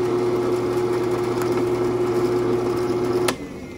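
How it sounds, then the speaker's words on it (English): Drilling a through hole into the bottom of the blind hole in a stop pin for a knife-making file guide, a steady machine whine holding constant for about three seconds before abruptly dropping off. "We're now going to drill the through hole all the way through the bottom of the 147 hole."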